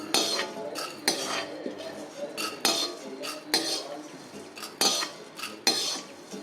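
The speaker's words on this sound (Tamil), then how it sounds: "ஆஃப் பண்ணிவிட்டு இந்த பாத்திரத்தில் நம்ம எதில் பாயசம் வைக்கிறோமோ அதில் எடுத்து நம்ம கொட்டி விடலாம்" Roasted chana dal and rice tipped from a pan into a metal payasam pot: repeated sharp scraping clinks and rattles of a utensil against the vessel, close and fairly loud, in uneven bursts.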